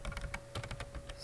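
Quick bursts of typing on a computer keyboard, close and fairly quiet, a rapid run of key clicks with no talk over them.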